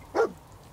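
A single short dog bark in the video game Fallout 4, close and fairly loud, followed by quiet background.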